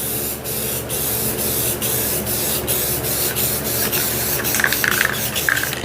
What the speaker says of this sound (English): then we'll hit it with one final layer of clear coat